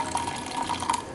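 Chickpea cooking water poured into a mixer jar while making Onam sadya koottu curry, a short steady trickle and splash of liquid at close range.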